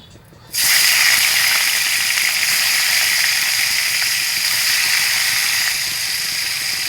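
Paneer pieces dropped into hot salted oil in a pan, a sudden loud hiss of sizzling that bursts in after a quiet moment and holds as a steady, bright frying roar, close up with no talk.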